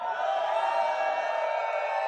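A crowd at a St Patrick's Day chessboxing bout cheers and whoops in one steady, loud swell lasting a couple of seconds.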